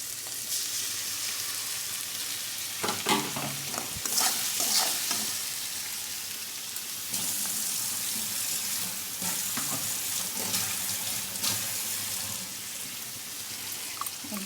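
Onions sizzling with spice paste in a hot pan, a steady continuous frying hiss with occasional stirring scrapes, close and fairly loud, no voices.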